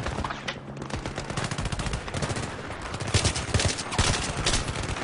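Rapid bursts of gunfire in Battlefield 3 crackle continuously with dense automatic shots, loud and chaotic, layered over a noisy game background with no speech.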